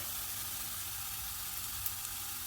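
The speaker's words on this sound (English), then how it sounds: "So adding 1 tablespoon of the garlic paste" Garlic paste hitting hot oil in a pan for a chickpea curry, a dense close sizzle that holds steady and even for a couple of seconds with a tiny tap near the end.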